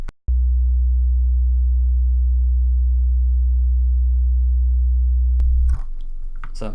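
A pure sine wave sub bass tone near 60 Hz holds as one steady, deep hum for about five seconds after a brief click. It then stops abruptly and leaves a few faint scraping noises.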